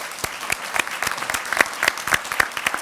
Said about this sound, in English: let's give everybody a round of applause.